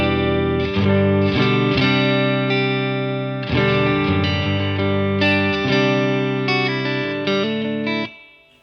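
A Chapman DPT UK-built prototype guitar plays ringing chords through a Marshall amp on its clean channel with lush reverb. The strums are loud and sustained, with several changes, and the last chord fades out.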